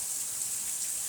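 Heavy rain pours down during storms in Missouri, a steady, dense hiss with no pauses throughout the short stretch.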